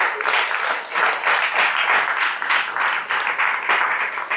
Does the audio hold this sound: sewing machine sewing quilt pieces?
no